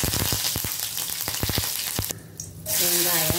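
Cardamom, cinnamon and bay leaf frying in a little oil for vegetable kurma, a close, steady hissing sizzle with rapid clicking pops, briefly dipping before a louder, smoother hiss takes over at the end.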